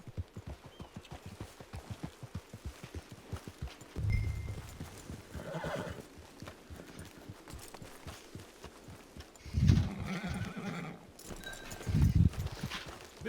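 Hooves clip-clop in a quick, even rhythm at close range in the video game Red Dead Redemption 2 Online, broken by a couple of whinnies and snorts from the horse.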